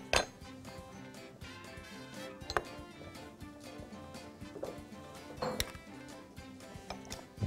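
Clinks and taps of spoons and jars against a bowl as mayonnaise, mustard, honey and cream go in for honey mustard sauce, with a few sharp close knocks over a soft steady kitchen background.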